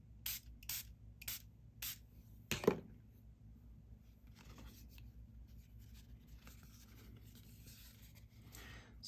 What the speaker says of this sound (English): And we'll spray the paper this time.